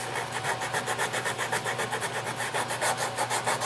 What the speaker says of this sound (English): So we're just sanding that smooth